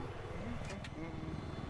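A helicopter in Battlefield 4 hums with a steady low rotor drone throughout, sitting under a faint background wash with no clear speech on top.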